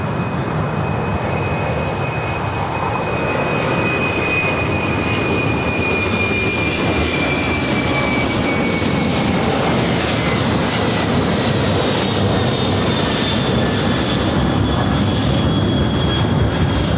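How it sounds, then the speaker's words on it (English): A FedEx Boeing 767-300 freighter takes off from runway 5 left at LAX, a steady broad jet roar that holds strong and continuous throughout, with a thin high whine gliding slowly downward above it. "Do have a FedEx 767-300 freighter heading to Memphis, flight 1379, rolling down to"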